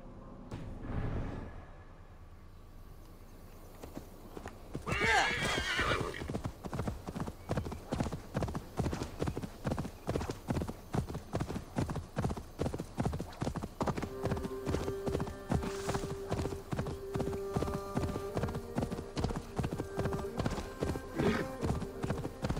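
Galloping hooves of a horse in the video game Assassin's Creed Valhalla, a fast, even clip-clop rhythm close and loud for most of the stretch, with a short whinny and game music beneath.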